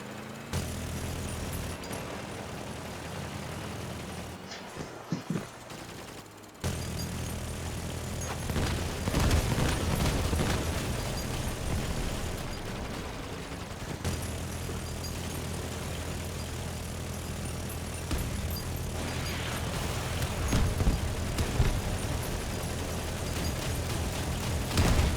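Dense, continuous gunfire and booming explosions from a Syndicate video game battle, loud and sustained throughout with heavy low rumble and rapid crackling bursts, briefly dropping out for a moment before the chaos resumes.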